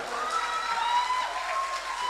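Audience applause rising to welcome a contestant onto the stage at a Myanmar Star Grand Final 2024 live singing show, a steady dense clapping wash from a large crowd.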